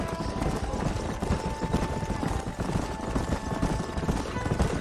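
Horses clop steadily over ground in a busy, overlapping rhythm with a whinny mixed in, set in the Red Dead Redemption video game, fairly close with low background hum.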